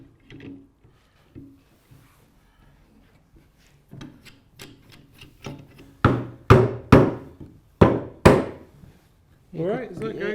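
Wooden captain's chair parts being tapped together during glue-up, a series of sharp knocks that grow louder and more frequent, around eight firm hits, with a voice speaking at the end.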